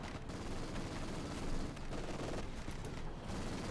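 Dense, continuous gunfire from a German MG42 machine gun in a Company of Heroes 2 match, a sustained rattling barrage with layered battle noise and no talk.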